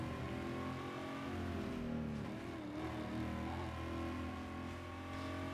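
Car engine in the Burnout Paradise racing game holds a steady, droning rev with layered harmonic whine, loud and continuous throughout, with no voices.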